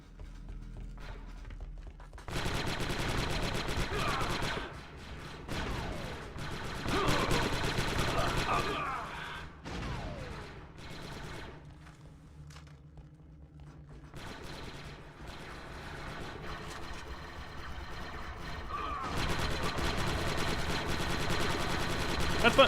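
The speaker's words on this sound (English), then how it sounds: "Someone, like, shooting at me?" Rapid bursts of automatic gunfire rattle in an Xbox shooter game, several sustained volleys separated by brief lulls, loud and close, with in-game sound continuing between bursts.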